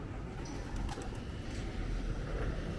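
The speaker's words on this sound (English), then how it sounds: "I don't like birds" Pigeons coo softly amid steady outdoor background noise, with a few faint bird calls and brief wing-like flutters, fairly distant and low in level.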